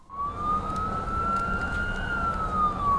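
An ambulance siren from an emergency response service wails in one long rising and falling sweep, loud and near, over a low rumble of road traffic.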